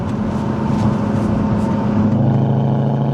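A V8-swapped Audi climbs a hill in fifth gear, its engine a steady, deep, loud drone heard from inside the cabin with no voices.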